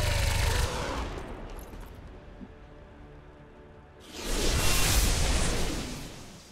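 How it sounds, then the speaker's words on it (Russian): A powerful machine gun fires in XCOM 2: War of the Chosen, a brief burst at the start followed after a lull by a louder, sustained volley of rapid shots. "выстрел его пулемета оказывается настолько мощным"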